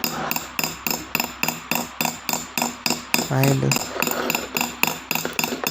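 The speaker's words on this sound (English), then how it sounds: "It takes much extra care to hammer the metal," Metal is hammered toward stones in a jewelry setting, sharp close taps in a fast regular rhythm, about three per second, with a brief spoken word partway through.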